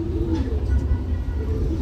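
Rain-soaked pigeons in a wet loft coo softly and continuously, a low, steady rumbling murmur close by.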